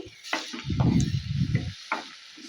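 Fried onions with a spoonful of turmeric are stirred in a pan for masala dosa filling, producing close, rough scraping and shuffling strokes over a light sizzle, with a couple of sharper clicks.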